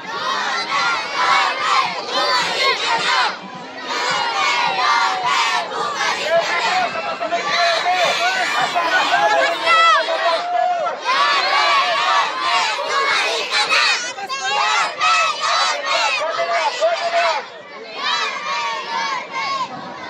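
Elementary school children at Antonio Luna Elementary School shout a loud group chant during a Philippine congressional campaign visit, many young voices yelling together in sustained bursts, close and energetic.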